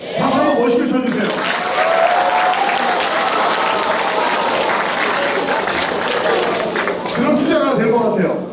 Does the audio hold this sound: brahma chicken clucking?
no